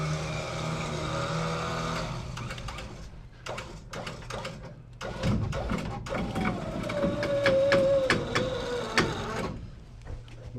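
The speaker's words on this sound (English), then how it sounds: "So really we use our winch system. I'm going to release the weight on this safely, securely" A sawmill winch lets off the weight of a log, with a loud mechanical ratcheting clatter and a rising, whining tone from the winch over steady machine rumble for about ten seconds.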